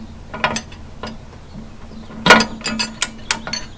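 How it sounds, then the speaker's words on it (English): A giant torque wrench tightening an M16 bolt on a Unimog U1300L subframe: sparse ratcheting clicks, then a sharp metallic clack and a run of rapid ratchet clicks up close. "The only torque wrench I have that will do that is this giant one."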